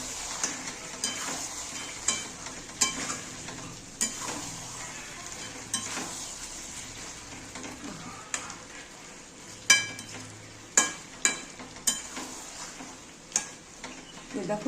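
Mutton being fried down for a Bengali-style potato mutton kosha sizzles in the pot as water goes in, with steady hissing and scattered sharp clinks and scrapes of stirring throughout.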